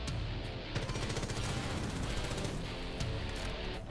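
Dense, continuous video-game gunfire as bandits are shot down, rapid bursts of automatic fire layered over one another at steady loudness with no pauses, a faint voice barely present beneath the shooting.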